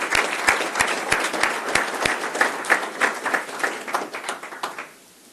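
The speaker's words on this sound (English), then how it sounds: "So let's have a round of applause for them once again." Audience applause at a city meeting, a dense burst of many hands clapping close by with sharp individual claps standing out, steady for about five seconds before quickly dying away to silence.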